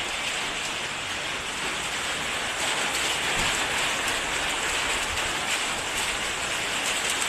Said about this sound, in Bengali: প্রচুর বৃষ্টি হইতেছে, তুফান।